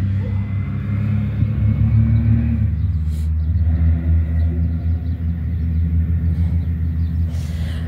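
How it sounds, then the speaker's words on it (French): Old vintage cars passing outside, a continuous low engine rumble that stays loud and close throughout, with no talk over it. "Si vous entendez des bruits de voiture, c'est parce qu'il y a des vieilles voitures là qui passent"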